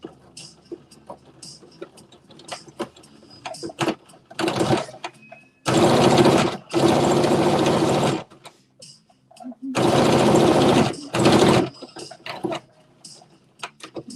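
A sewing machine back stitches across the top of a fabric flap in several short bursts, with a rapid whirring run near the mic between quiet pauses and small ticks and clicks.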